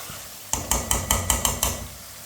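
Spoon stirring spices in a metal cooking pot for a vegetable dish, seven evenly spaced clanking scrapes against the pot, close and clear, with no talking.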